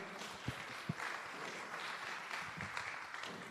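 Fairly faint audience clapping for children after a song at a Jamaican project launch, a steady patter with a few sharper claps standing out.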